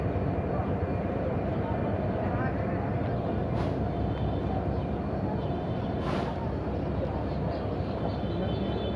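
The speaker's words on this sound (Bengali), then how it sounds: "টং টং টং টং টং টং করতে করতে ট্রেন এখন চলে যাবে" The Sundarban Express stands at Kushtia Court station. A low, steady rumble fills the platform, with a couple of brief hissing bursts and faint voices murmuring in the background.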